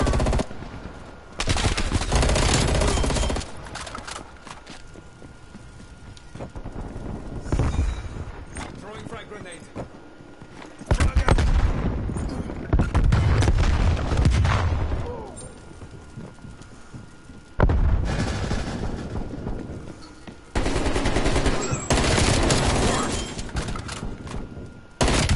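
Bursts of rapid gunfire in the video game Call of Duty: Black Ops Cold War, loud and recurring in several long stretches, mixed with a voice speaking over the shooting.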